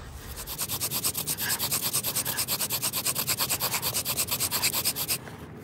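Rapid back-and-forth rubbing of wood on wood from a bow drill making friction fire, a steady rhythmic sawing friction of about six strokes a second, close and continuous before stopping.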